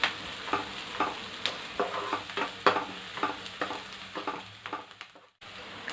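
Curry leaves and green chillies sauté in oil for a mushroom fry, a steady broadband sizzle broken by repeated spatula scrapes and taps against the pan, close and moderately loud, with a brief dropout near the end.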